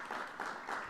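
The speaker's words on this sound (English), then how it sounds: "Please give it one more round of applause for our lovely readers tonight." A small audience at an undergraduate poetry reading claps for the readers in a brief, thin burst with a few uneven pulses, fairly quiet and distant.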